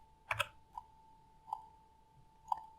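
A few isolated key clicks on a computer keyboard as single numbers are entered into a trading chart setup, sounding as sparse, separate taps with long pauses between them in a quiet room.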